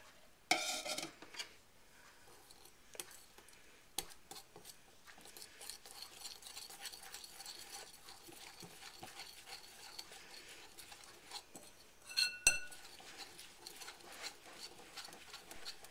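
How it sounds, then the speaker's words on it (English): Whisking cocoa and vanilla into a whipped mixture for homemade chocolate frosting, with a quiet, continuous scraping whisk against a bowl, a louder clatter near the start and another knock of utensil on bowl about twelve seconds in. "And I'm going to whisk that together till it's well combined."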